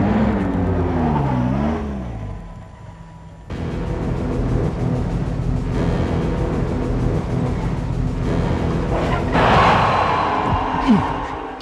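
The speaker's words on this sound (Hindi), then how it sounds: "तो गाड़ी तो शुरू कर।" A car engine starts and drives off in a tense drama scene, a steady motor rumble and revving running loud throughout, swelling near the end, with a brief voice-like tone at the start.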